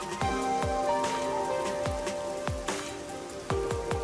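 Steady rain patters across a neon-lit city street in the Rain Code video game, with drops striking surfaces and periodic sharp drip impacts over a constant wash of noise.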